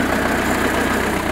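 A tractor engine idles steadily in a vineyard, with a continuous low rumbling drone and fine knocking vibration, close and constant throughout.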